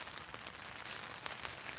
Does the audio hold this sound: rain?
yes